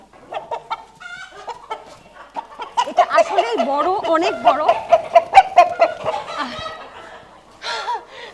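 A large Aseel rooster clucking in bursts of low, throaty calls, close by, mixed with a person talking over it.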